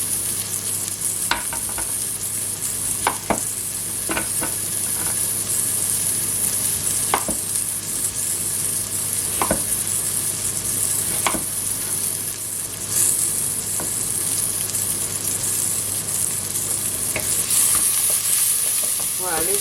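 Onions, turnips and carrots fry in a pot for a vegetable potée, with a steady low sizzle punctuated by occasional scraping stirs of a spoon.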